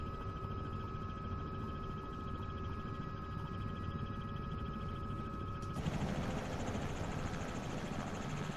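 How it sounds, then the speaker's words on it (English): Robinson R66 turbine helicopter in Microsoft Flight Simulator 2024, a steady droning engine and rotor hum with a constant whine, shifting to a slightly broader, louder roar partway through, with no talking. "Sound of this helicopter is pretty cool. It's such a basic little chopper."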